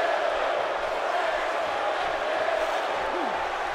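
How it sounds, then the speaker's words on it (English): Arena crowd in the WWE 2K18 wrestling video game, steady and loud with a continuous roar and faint chanting throughout, with no clear breaks. "The crowd is saying Bray's gonna kill you."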